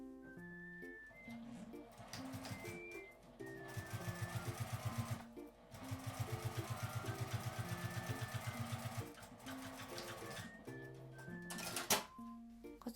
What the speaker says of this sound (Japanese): 上端にミシンをかけます。